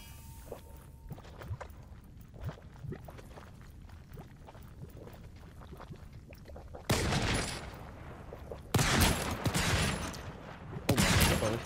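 Rifle fire in the video game Volcanoids: scattered quick shots crack in an irregular rhythm, then three louder, denser bursts ring out near the end, with footstep-like clatter between them.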